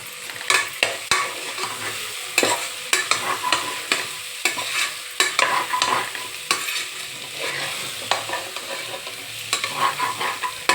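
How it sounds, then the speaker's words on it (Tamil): Onions and a handful of mint leaves sauté in a pan, a constant sizzle broken by frequent scraping, clattering stirs of a spoon against the metal, close and lively throughout. "இங்கே பாருங்கள், நல்லா வதங்கி வருது."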